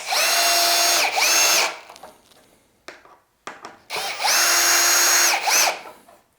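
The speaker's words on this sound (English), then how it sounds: "We'll screw in this." A power drill drives screws into a wash station during assembly, in two long, loud, close whirring bursts with quieter handling clatter and brief pauses between them.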